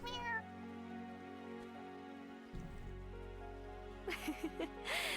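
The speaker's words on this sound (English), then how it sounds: "See, I wanted to pet the cat." A cat meows inside the video game Wylde Flowers, with short calls near the end over steady game music and a soft rain-like patter.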